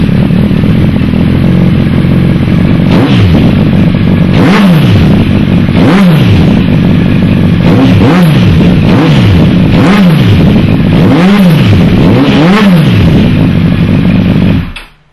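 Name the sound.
Honda CBR1000RR motorcycle revving with Yoshimura exhaust pipe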